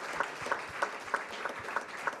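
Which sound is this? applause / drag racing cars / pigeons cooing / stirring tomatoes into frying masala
applause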